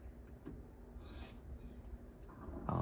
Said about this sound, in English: It's just flipping the burr back and forth by doing these into the edge strokes with light pressure